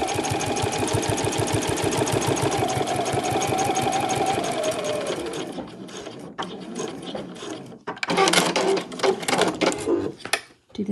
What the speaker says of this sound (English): I can just sew all the way up there just to hold everything together.